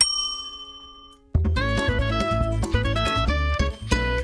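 A handbell rung as a bell of shame gives a single sustained ding that decays, then a loud burst of ringing, clanging tones that runs to the end.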